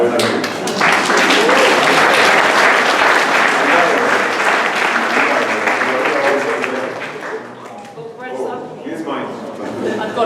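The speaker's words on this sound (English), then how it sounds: "And I ask you a big applause for the girls." A crowd at a D&AD creative awards presentation gives loud, sustained applause that fills most of the stretch before tapering off, with voices audible around and after it.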